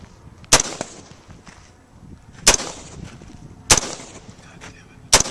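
Rifle shots at a target ring out four times, each a loud, sharp crack with a brief echo, spaced roughly one to one and a half seconds apart.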